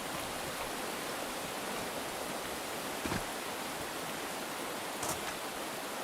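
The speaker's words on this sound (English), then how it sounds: "That sounds like a waterfall." A waterfall in the video game DayZ, set in Chernarus, gives a steady, faint broadband rush of falling water, broken by a couple of brief soft clicks.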